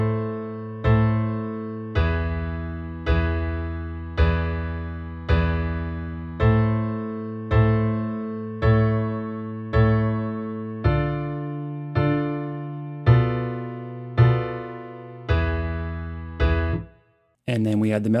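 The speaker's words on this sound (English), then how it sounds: "I've got Easy Bass with an upright acoustic bass part" A steady, repeating pattern of plucked upright bass notes with piano chords on top, evenly spaced at a relaxed tempo, ending with a brief pause.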